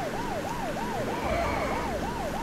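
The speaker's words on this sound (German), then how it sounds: "Ich liebe es, mit Krankenwagen zu fliegen." A wailing ambulance siren in the video game Lego Marvel Super Heroes, the tone sweeping up and down in regular cycles about every half second, loud and continuous over a low vehicle rumble, with a second overlapping wail in the middle.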